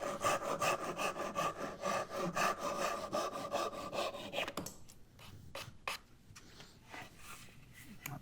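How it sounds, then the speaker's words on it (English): Handsaw trimming excess wood edging flush on a compact folding router table case, a steady run of close rasping back-and-forth strokes that stops partway, leaving a few scattered light scrapes and taps. "any extra can get trimmed off with a handsaw"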